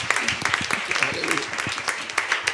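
A church congregation applauds in a steady patter of dense clapping, mixed with voices and cheering throughout.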